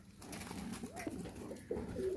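Teddy breeder pigeons coo faintly in a loft, a few soft throaty calls over a low background murmur.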